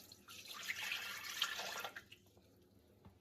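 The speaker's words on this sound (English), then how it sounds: "We're pouring this warm water into Thermomix." Warm water poured into a Thermomix bowl, a soft steady splashing stream lasting about two seconds before tapering off, faint and close in a quiet kitchen.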